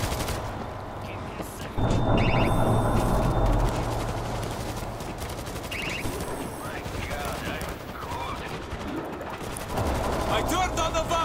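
Sustained automatic turret gunfire in the World War Z video game, a dense, loud rattle of rapid shots running throughout with brief bursts of game sound effects layered over it.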